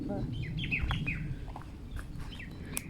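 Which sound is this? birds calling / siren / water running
birds calling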